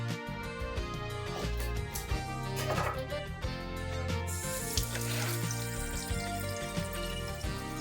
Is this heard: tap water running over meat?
yes